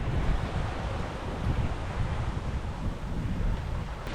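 Wind and waves aboard a Catana 58 catamaran sailing at about 7 knots in 15 knots of apparent wind, a steady broadband rush of wind on the microphone over washing water with no voices.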